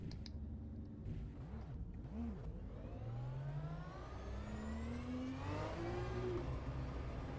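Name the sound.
race car driving in rFactor 2 sim racing video game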